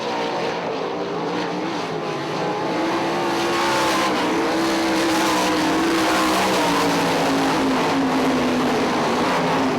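410 sprint cars racing at Ionia Raceway Park, a loud continuous engine roar that swells and shifts pitch as the pack passes, sustained throughout with no talk.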